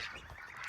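Geese honk faintly in a short burst of overlapping calls, heard from a distance on a dairy goat farm.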